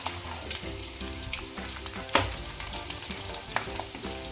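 Sweet murukku fry in hot oil with a dense, close sizzle and bubbling, broken by a few sharper crackles and stirring clinks.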